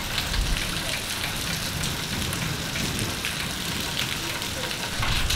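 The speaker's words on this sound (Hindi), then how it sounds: "बहुत तेज़ बारिश आई हुई है।" Heavy rain pours steadily in a dense, constant roar, loud and close, with a faint low rumble underneath.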